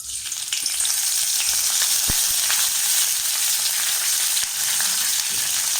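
Curry leaves fry in oil in a pan with a loud, steady sizzle that runs the whole time, close by, and a few soft knocks rise out of it now and then. Nobody speaks.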